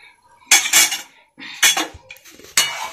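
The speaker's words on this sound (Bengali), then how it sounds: "ঘি দিয়ে এটাকে ভালো করে নাড়তে হবে।" A metal spoon stirs milk and ghee in a pot in three loud, close bursts of clattering and scraping against the sides, with short pauses between and no voices.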